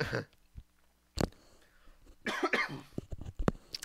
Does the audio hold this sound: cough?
yes